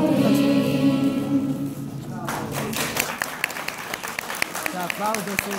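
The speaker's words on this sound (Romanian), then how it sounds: "Se aplaudă sus, bine faci." Audience applause after a school choir's patriotic song at a transport technical college in Baia Sprie, sung at first, then scattered clapping with sharp claps breaking through, fairly close and steady.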